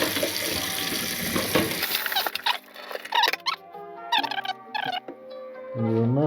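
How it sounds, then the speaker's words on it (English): Squid under a running kitchen tap for cleaning, steady splashing water for about two seconds, then broken drips and handling sounds with short rushes of flow, close to the microphone and alone. "to prepare this pusit, this squid, you just gotta wash it."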